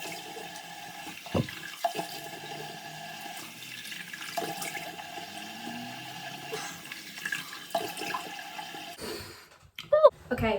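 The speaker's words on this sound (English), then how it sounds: "now I just wash this off with warm water again." Warm water runs at a sink while a face is washed, giving a steady tap stream broken by splashes and a few louder sloshes near the end, with quiet breathing or murmuring in the background.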